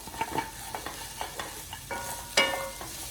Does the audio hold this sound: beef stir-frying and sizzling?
yes